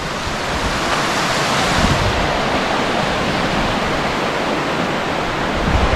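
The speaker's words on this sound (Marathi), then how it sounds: "इकडे पाण्याचा आवाज खूप येत असेल ना. खूप येतोय तो काय भरपूर. खलकोलाट सुटलाय पाण्याला बघ." River water rushing hard and loud near a bridge in rainy season, a steady broadband roar of churning flow that stays constant and close throughout.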